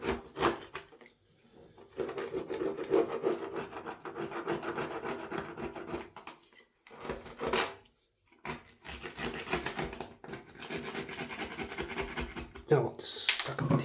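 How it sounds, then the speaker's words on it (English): Old silicone sealant is scraped and rasped out of bathroom joints in repeated bursts of close, gritty scraping with short pauses in between, and a voice speaks intermittently over the work. "Getting all of that old silicone out."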